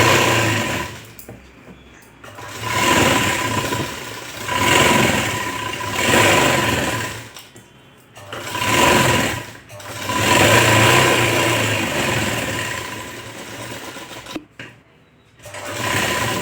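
A sewing machine stitches a canvas strip for a boat-neck garment in close, loud bursts of rapid mechanical whirring, separated by brief pauses, with no talk.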